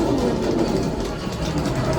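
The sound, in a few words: train sound effect on a theme-park ride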